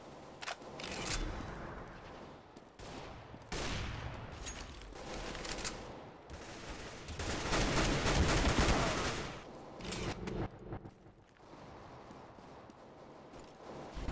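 Rapid bursts of CS:GO gunfire crackle in close succession, with a sustained dense volley in the middle and scattered single shots around it, loud and alone without talk.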